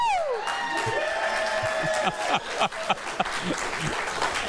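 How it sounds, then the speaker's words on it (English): Studio audience of a daytime talk show breaking into applause: dense, sustained clapping from a crowd with some whoops and cheers, while voices talk over it. "We shouldn't clap at that, Thomas."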